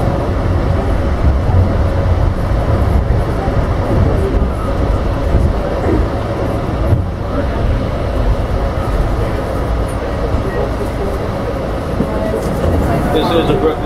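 A New York City R68A subway car on an A train rumbles steadily along the tracks with a continuous low roar, and onboard announcements can be heard over the noise.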